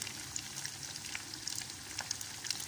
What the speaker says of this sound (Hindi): ये हो रही है पूरी फ़िश फ्राई